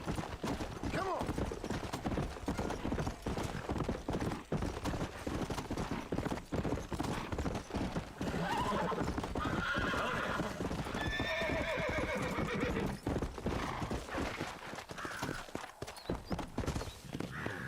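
Rhythmic hoofbeats of a galloping horse in the Western video game Red Dead Redemption (2010) clatter steadily and close, with a horse neighing partway through and a voice speaking briefly.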